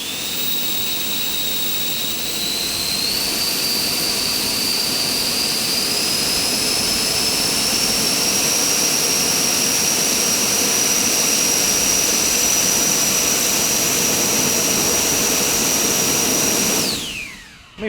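A 3D-printed electric ducted fan drone runs at a loud, close, continuous whine with a tone that slowly rises as it powers up, then it spools down abruptly near the end.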